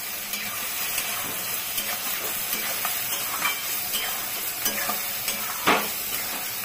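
Chopped onion frying in a pan with salt, turmeric, coriander powder and Kashmiri chilli powder, a continuous bright sizzle broken by small stirring scrapes and one sharper clatter near the end.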